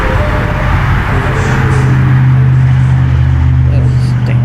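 A car goes by on a road outside a house porch, a steady rumble that swells toward the middle and end, with someone talking over it.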